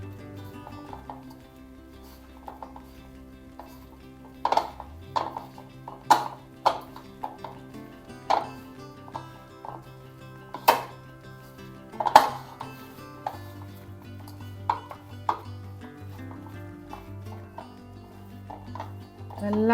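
A brinjal omelette mixture is mixed with salt in a bowl, heard as sparse, sharp clinks and taps of utensil against dish over a faint hum, quiet between the hits.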